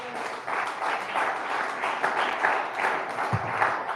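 Applause from a church congregation during a Spanish-language sermon, steady and dense clapping filling the room for several seconds, fairly loud and continuous with no voice over it.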